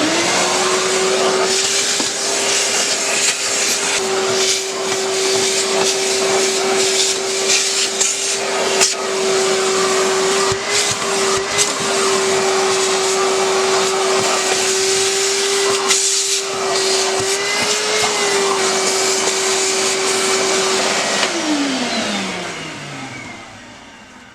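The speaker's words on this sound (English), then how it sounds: "So I'm going to be using one of these mini Shop-vacs" A mini Shop-Vac vacuum drones steadily and loudly for about twenty seconds near a sandblasting cabinet, its motor tone holding constant with slight wavers before spinning down at the end.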